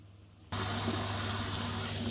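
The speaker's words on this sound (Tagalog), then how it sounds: "hugasan natin yung ating ampalaya" Water suddenly gushes from a kitchen tap over bitter gourd (ampalaya) being washed, a loud, steady splashing stream that starts abruptly after a brief quiet moment and runs without pause.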